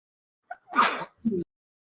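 A single close, forceful sneeze preceded by a brief inhale and followed by a short vocal sound, then silence.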